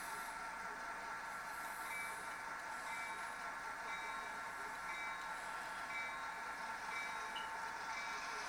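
Model railway train being pulled out during switching operations, a steady wheel-on-track hiss and rumble with faint squeals, continuous and even throughout, with no talking.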